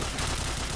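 Rapid gunfire from a first-person shooter game, a dense continuous burst of shots filling the short moment at steady loudness with no talk over it.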